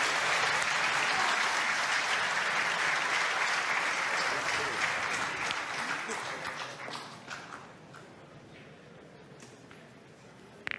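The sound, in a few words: applause from the neighbouring pétanque court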